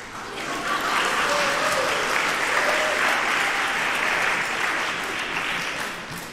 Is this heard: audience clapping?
yes